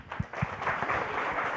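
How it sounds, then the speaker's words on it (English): Audience applause at the close of a PHP conference talk on debugging, a short burst of clapping with a couple of sharp individual claps at the start before it settles into an even patter. "A round of applause."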